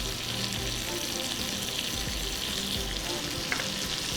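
Vegetables saute in a pan with steady, close frying sizzle and scattered stirring scrapes, one brief sharper clink near the end, no talking.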